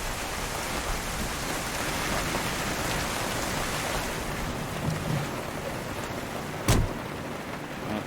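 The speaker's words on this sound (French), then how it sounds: "Alors cette pluie, c'est agaçant." Steady rain pours down in the DayZ survival game, a dense, constant hiss with no voices, broken near the end by a single sharp knock.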